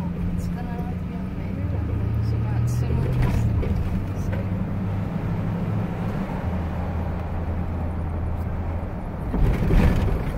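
A truck driving through a town, a steady close engine drone with a low rumble shifting in pitch, a louder burst near the end, while people talk over it.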